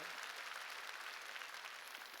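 A church congregation claps their hands, a soft, continuous patter of many hands at a distance, steady and faint throughout.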